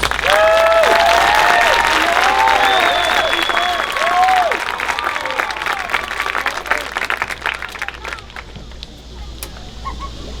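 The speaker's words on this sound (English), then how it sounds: "Let's give him a round of applause." An audience at a 2020 high school graduation ceremony claps, a dense, loud, sustained applause that fades slightly toward the end, with scattered cheers and voices mixed in.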